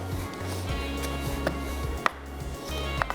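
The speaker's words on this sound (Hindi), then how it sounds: "टमाटर होगा चॉप" Knife chopping tomatoes on a board, a few sharp quick cuts over a low steady hum from a heating pan of ghee nearby, no talk.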